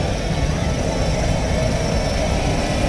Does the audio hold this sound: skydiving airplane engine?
yes